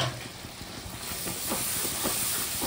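Water poured onto hot masala in a pan sizzles and hisses loudly, a continuous steamy rush with crackling bursts that builds slightly toward the end, no talk.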